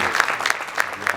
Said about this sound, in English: let's again give a round of applause to the winners of the first project